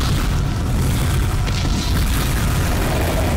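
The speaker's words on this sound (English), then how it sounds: "it launches its missiles against the targets in Russia" A film scene of Skynet launching missiles at targets in Russia brings a loud, dense explosive rumble that roars without a break for several seconds, heavy in the low end.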